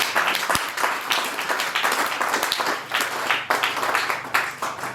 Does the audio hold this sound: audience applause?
yes